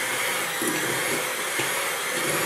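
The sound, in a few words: electric mixer mixing cream cheese and butter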